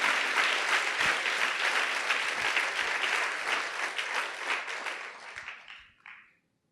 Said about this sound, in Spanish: Ahora, denle un aplauso al Señor.